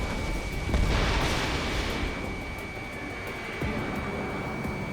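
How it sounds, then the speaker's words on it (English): A jet fighter's missile launch in the flight combat game Ace Combat 7: a steady engine roar with a hissing whoosh swelling early on, then fading back into the continuous drone. "Mage 1 launching missile."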